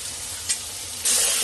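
Marinated chicken goes into hot biryani masala, giving a steady sizzle with a brief hiss of stirring midway and a louder, brighter burst of frying for the final half second.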